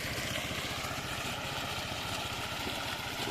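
Motorcycle engines at a town center rumble close by in a steady, throbbing drone with a quick low pulse, loud and continuous with no pause.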